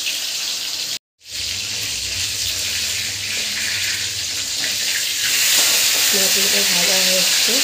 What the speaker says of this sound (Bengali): এবার আমি ভেজে নেবো মাছগুলোকে। আমি কড়ায় তেল দিয়ে দিয়েছি, তেলটা গরম হয়ে গেছে।